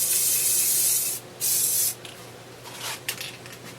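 Aerosol spray paint hissing onto a wooden scroll-saw chopper copter toy, several close, loud bursts of spray separated by short pauses.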